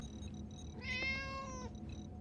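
A single, fairly close cat meow rises and falls in pitch over about a second, heard against a low background hum and faint intermittent tones.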